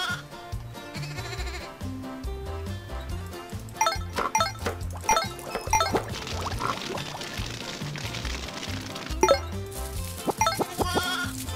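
Sheep in the farm game Meine kleine Farm 4 give several short bleats, recurring over a busy backdrop of game music and effects.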